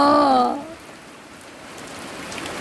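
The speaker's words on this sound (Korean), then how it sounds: "밤새 비가 너무 많이 오는데." Heavy rain pours steadily after two days of summer monsoon downpour over a farm's oat fields, a dense hiss that carries on after a voice briefly speaks at the start.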